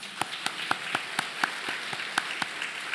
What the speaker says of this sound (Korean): 우리 박수로 위로하도록 하겠습니다.